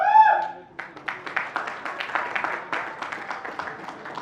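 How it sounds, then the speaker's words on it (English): An audience at an awards ceremony claps steadily after a brief voice at the start, producing moderate, even applause that continues to the end. "Everybody, big round of applause"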